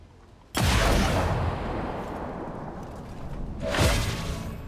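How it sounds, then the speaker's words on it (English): A Dark Lance rifle fires in the video game XCOM 2. Two heavy, booming energy shots land about three seconds apart, each with a sharp onset and a long, rumbling, whooshing decay. "which means Alyssa can now fire her Dark Lance a second time"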